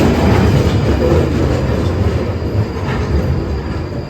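Inside a moving passenger train: a steady, loud rumble of wheels and carriage with faint rhythmic clatter and light squeal, continuous throughout with no talking.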